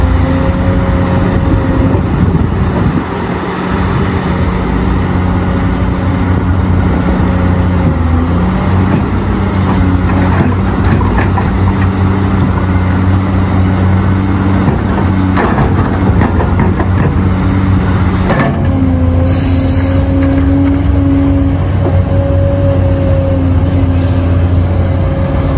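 A CAT 385C excavator loads Mercedes and MAN trucks at a mining site, its heavy diesel drone loud and sustained, with droning tones that shift pitch partway through as the machine works.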